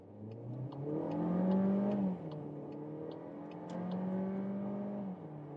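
A 2024 Skoda Octavia with the 150 hp 1.5 TSI petrol engine accelerates hard from 20 km/h in Sport mode, the engine note climbing steadily, dipping briefly at a gear change around two seconds and again near the end.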